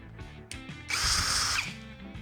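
A Procraft 20V cordless screwdriver runs close by, with short whirring bursts and then a louder, sustained high motor whine lasting about a second before it winds down.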